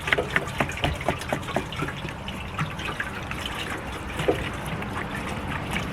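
Liquid pouring into a 1999 Harley Davidson gas tank, a continuous hollow trickling and gurgling with small splashes, steady and close.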